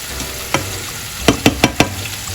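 Pork gravy powder stirred into water in a pan gives a faint sizzling background broken by a single scrape and then four quick, distinct clinks or scrapes of a utensil close by.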